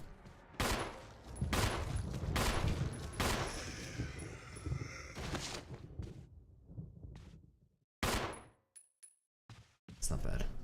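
Gunfire in the video game Resident Evil: rapid bursts of loud shots in a dense, sustained volley, then a few scattered single shots after a brief pause, with a voice talking faintly underneath.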